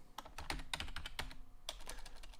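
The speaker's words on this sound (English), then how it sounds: "I'm typing this." Rapid, irregular clacking of keys on a computer keyboard, close and fairly quiet, with bursts of keystrokes and a brief pause, no talking.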